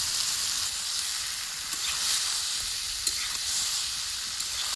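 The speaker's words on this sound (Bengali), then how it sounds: "ক্যাপসিকাম দিয়ে এগুলোকে আমরা ভালোভাবে নেড়ে নিচ্ছি। এর মধ্যে আমরা কাঁচা মাংসগুলোকে দিয়ে দিয়েছি।" Raw chicken pieces stir-frying with capsicum, green chilli and onion in a pan, a loud continuous hiss of oil with faint stirring scrapes throughout, up close and without voices.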